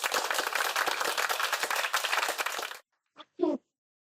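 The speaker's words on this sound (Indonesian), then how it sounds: "Keren, tepuk tangan." Dense, steady applause from a group of listeners in an Indonesian podcast setting, clapping continuously for nearly three seconds before stopping abruptly, followed by a couple of short isolated sounds.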